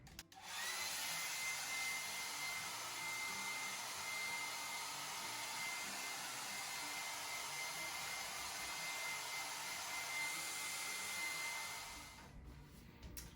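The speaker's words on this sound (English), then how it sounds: "I used my hair dryer for 15 minutes" A hair dryer blows in a steady, even whoosh for about twelve seconds, heating hair under a plastic cap after a temporary purple dye, then clicks off; faint and alone, with no talk.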